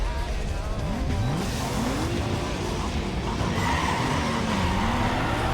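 Engine roar and squealing tires from a racing video game, with continuous loud engine drone and sweeping pitch changes as the car shifts gears, plus faint talk in the background.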